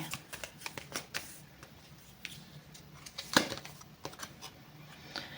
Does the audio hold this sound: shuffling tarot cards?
yes